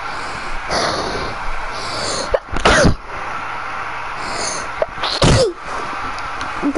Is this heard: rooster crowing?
no